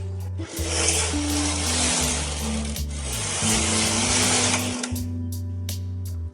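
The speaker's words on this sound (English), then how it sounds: "Move the carriage back and forth." The carriage of an SK280 knitting machine is slid back and forth across the needle bed during tuck jacquard work. It makes a close, loud, rasping whir in two long passes, with clicks at each turn and a short rattle at the end.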